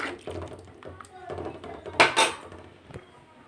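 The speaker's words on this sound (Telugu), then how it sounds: "రవ్వని బాగా కలుపుతూ ఉంటాం." Semolina (rava) being stirred in a pan for upma, with a series of soft scraping and clinking strokes of a utensil against the metal pan, close by, including a couple of louder scrapes midway.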